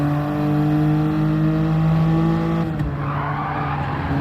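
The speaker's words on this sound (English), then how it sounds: "Drifting the car a little bit," A GT race car drifting through a corner in a racing game, the steady engine drone and tire squeal held loud for a couple of seconds before easing off as the revs drop.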